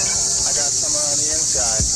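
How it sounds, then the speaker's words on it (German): Loud crickets chirp in a steady high-pitched drone, with faint voice-like sounds underneath. "Wie laut waren die Grillen?"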